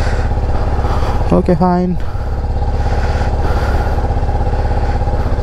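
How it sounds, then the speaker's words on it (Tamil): A TVS Apache RR310 motorcycle idles steadily while warming up after rain, its low, even engine throb running throughout with a brief spoken exchange over it. "வண்டி வார்ம் அப் ஆகட்டும்."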